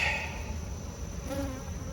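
Honey bees clustering on a hive frame near the brood nest, a steady close buzzing hum with faint shifting tones as individual bees drift past.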